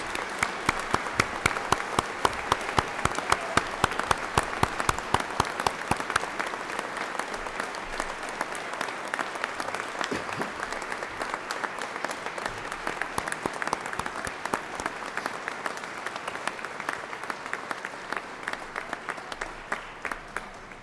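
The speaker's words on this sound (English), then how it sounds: "would you please join me in a round of applause for the 77th Indiana State Police Recruit Academy class" Sustained applause from a ceremony audience for the graduating 77th Indiana State Police Recruit Academy class, dense steady clapping that starts strong and continues evenly for about twenty seconds without talk.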